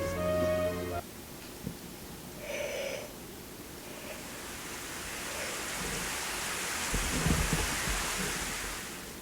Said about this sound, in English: It had begun to rain all of a sudden.